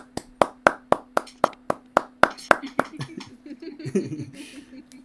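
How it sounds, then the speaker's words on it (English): A single person claps about a dozen times in a steady rhythm, then the claps fade into light chuckling and rustling. "Give yourself a round of applause."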